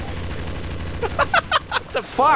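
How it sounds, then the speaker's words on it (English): Rapid bursts of gunfire from a Garry's Mod shooter match, several sharp cracks in a quick uneven volley over a low background hum, with a player's shouted exclamation at the end. "So much gunfire everywhere"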